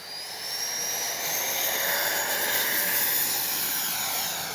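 HobbyKing FlyCat V2 radio-controlled jet flying, its turbine giving a steady, loud high-pitched whine and rushing roar that holds throughout with a slight pitch sweep as it passes.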